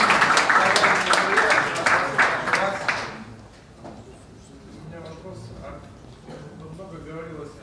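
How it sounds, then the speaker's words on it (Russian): Loud, crisp applause from participants at a hackathon and foresight session lasts about three seconds, then fades into quiet talk from people in the room. "Аплодисменты, ребята!"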